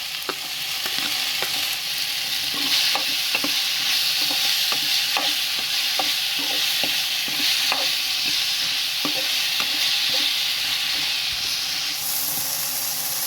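Chopped tomatoes fry in a pan for cheese macaroni pasta, giving a loud, steady sizzle and hiss throughout, with light stirring scrapes ticking at irregular intervals.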